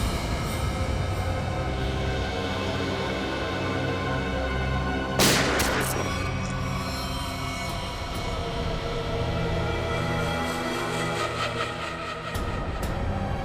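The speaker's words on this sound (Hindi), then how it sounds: "दया गोली चलाओ उस पर, चलाओ गोली, चलाओ गोली।" Gunfire in a Hindi TV crime drama, a sharp burst of shots around the middle cutting through a dense, loud music and effects bed.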